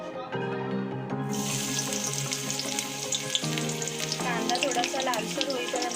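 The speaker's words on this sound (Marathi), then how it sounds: "सर्वात पहिलं तेलामध्ये आपण कांदा टाकून घेऊया" Onion dropped into hot oil in a kadhai starts a loud, bright sizzle that swells after a brief quiet start and keeps hissing steadily, close by with no talking.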